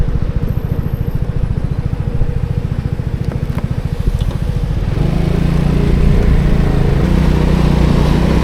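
A Vespa scooter's engine pulls away after a roundabout: a steady, close throbbing drone that grows louder and rougher about halfway through as it accelerates, with no talking.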